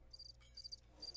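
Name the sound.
crickets chirping, comedic silence effect in video game Chex Quest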